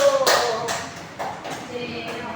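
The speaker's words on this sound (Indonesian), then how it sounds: "tepuk tangan untuk kelompok 1" A primary school class claps for a group in a few quick bursts, near and lively, mixed with children's voices.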